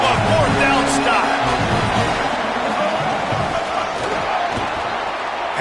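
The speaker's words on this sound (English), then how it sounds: "This crowd busting the decimal meter and trying to will a 4th down stop." Stadium crowd roaring for a fourth-down stop in a College Football 27 dynasty game, Michigan against Penn State, a steady dense roar held throughout under a commentator's talk.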